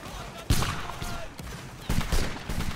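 Musket volleys in a Roblox Napoleonic Wars game: a sharp, loud burst of overlapping shots, then several ragged follow-up volleys crackling amid battle noise and faint talk.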